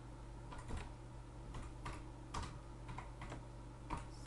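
Computer keyboard typing while a question page is built on the Moodle platform: irregular clusters of soft keystrokes over a steady low electrical hum, with no speech.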